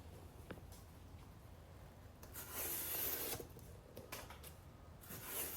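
A Vosteed Vombat knife cuts through double-thickness cardboard with a faint, close rasping scrape, swelling into a longer gritty drag in the middle and then tapering into short strokes.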